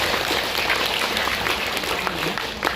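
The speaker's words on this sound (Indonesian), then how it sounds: "Tepuk tangan sekali lagi buat Ibu Inayah" A seminar audience gives a steady burst of clapping for Ibu Inayah, dense, even applause filling the room for a few seconds with no pauses.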